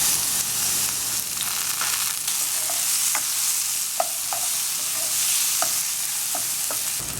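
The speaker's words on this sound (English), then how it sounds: "So I've got my oil in my pan there. Then I'm going to be adding my onions," Onions, tomatoes and garlic frying in oil in a pan for a Trinidad-style steamed fish in coconut milk, with a steady close sizzle broken by scattered sharp spoon clicks and scrapes, and no talking.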